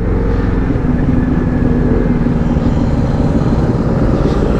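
A Euro Falcon 180i motorcycle pulls hard under throttle on the road, a loud continuous engine drone with wind roar, steady and close throughout, no talking.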